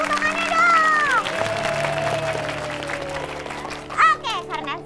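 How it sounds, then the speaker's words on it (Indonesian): An audience applauds at a children's show, with clapping running under a presenter's energetic talk and a brief burst of crowd noise near the end. "Semangat tepuk tangannya dong."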